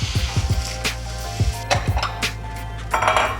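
Fried rice (yakimeshi) with butter and soy sauce being stirred in a pan or skillet, giving repeated metallic scrapes and clinks of a utensil against the pan in uneven bursts, with a light sizzle.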